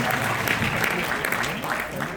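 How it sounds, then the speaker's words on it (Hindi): Hearty applause from the audience at a Hindi literary gathering welcoming guests from New York and Connecticut, a dense wash of clapping that stays fairly loud and even, with faint voices mixed in beneath. "जोरदार तालियों से स्वागत किया जाए।"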